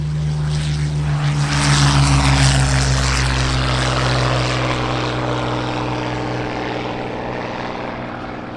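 A World War II airplane powered by a Rolls-Royce Merlin engine runs with a loud, steady propeller drone, pulsing slightly at first, then easing gradually in level while staying close and continuous with no voices.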